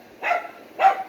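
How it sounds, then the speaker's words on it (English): A dog barks twice, two short mid-loud yaps about half a second apart, heard indoors with no talking. "The dog's barking at me."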